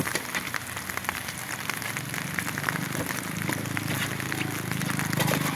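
Rain falling on a roof at a small house under construction, a dense steady patter of drops that stays loud and even throughout and builds slightly toward the end, with no talking.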